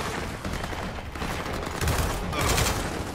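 Gunfire in the video game Gears of War rattles in dense bursts of rapid shots, loud and continuous, with no voices over it.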